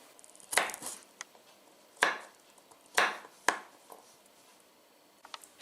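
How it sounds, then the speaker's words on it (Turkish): A knife chops an onion on a cutting board for ratatouille in a few sharp, irregular strokes, fairly close with quiet gaps between. "Ve soğanımızı aynı şekilde doğramak kaldı."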